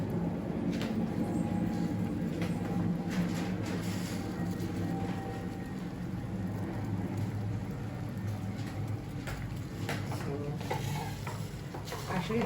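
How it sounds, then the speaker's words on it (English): A pot of vegetable broth bubbles and boils steadily nearby, a continuous soft hiss with small pops and occasional faint clinks. "So as it's boiling, I'm going to get the other ingredient ready."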